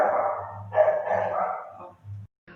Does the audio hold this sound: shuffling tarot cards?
no